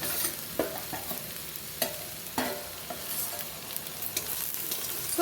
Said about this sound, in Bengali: সবজি দিয়ে ভালোভাবে মিশিয়ে নেওয়া হচ্ছে।